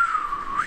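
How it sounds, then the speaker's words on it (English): Single whistled tone from a character in the video game Paladins, a steady pitch that glides upward at the end, short and close with no talk over it. "That's me whistling."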